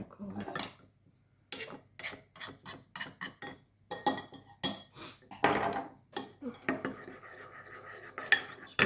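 Knife cutting garlic on a board, a series of crisp, close chops and scraping taps in uneven bursts with short pauses between them.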